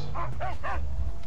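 A dog barks three times in quick succession in the Mad Max video game, loud and close, with yipping tones over a low rumbling background.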